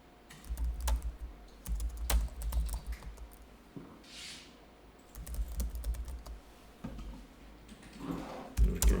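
Typing on a computer keyboard while entering a business address into a form, with irregular bursts of clicking keystrokes interrupted by brief pauses, fairly close and alone.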